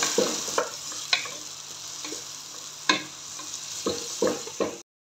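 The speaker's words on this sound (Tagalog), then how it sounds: "Halo-haloin hanggang brown" Pork fat frying brown in a pan, stirred with a utensil, giving a soft continuous sizzle broken by repeated scraping strokes, close and fairly quiet with no talk.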